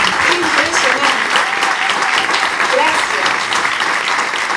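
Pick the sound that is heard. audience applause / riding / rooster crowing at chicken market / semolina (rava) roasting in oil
audience applause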